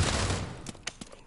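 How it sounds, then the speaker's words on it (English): A grenade goes off in the VR shooting game Pavlov as a loud low blast that fades quickly, followed by a few scattered sharp gunshot cracks. "Who threw the grenade this time?"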